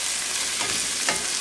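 Beef is stirred in a hot pan with golden-browned garlic and onion for Ilocano beef igado, a steady sizzle and fry with soft scraping of the spoon throughout.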